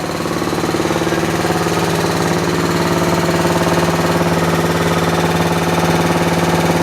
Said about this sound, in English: Got a good generator.